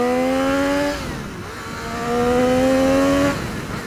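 Triumph Street Triple 675cc motorcycle engine pulling hard under acceleration, loud and close, rising in pitch, dipping briefly around a shift, then climbing again.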